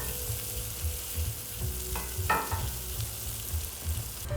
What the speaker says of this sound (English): we're gonna add those to the pan and let those cook down